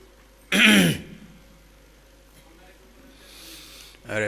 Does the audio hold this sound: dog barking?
no